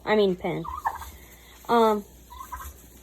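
Two loud, rattling gobbles from a tom turkey ring out nearby, separated by a short gap, with softer clucking sounds in between.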